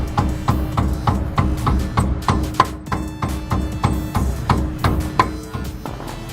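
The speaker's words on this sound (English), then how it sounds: "I'm going to use a little mallet to help it in place." A small mallet taps a new Toytec shock into place on a 2016 Toyota 4Runner, making a steady run of sharp, evenly spaced knocks that sound close and fairly loud, with no voices.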